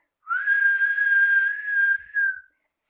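A person whistles to imitate a train whistle, giving one long steady clear tone held for about two seconds, then a short dip and a brief closing note, close and loud in a quiet room.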